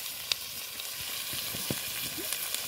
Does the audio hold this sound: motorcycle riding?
no